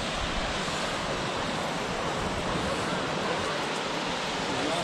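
Ocean waves washing on a beach in Tasmania, a continuous broadband surf wash with wind noise, steady and moderately quiet, no clear talk.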